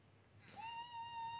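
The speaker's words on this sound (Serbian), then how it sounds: "Ove mačke me iritiraju." A cat gives a single rising meow partway through, quiet and alone with no talking, after a moment of near silence.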